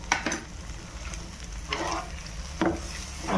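A spoon stirs Kathiyawadi garlic chutney with turmeric powder and salt in a pan, giving a few distinct scraping strokes over a soft, steady sizzle up close.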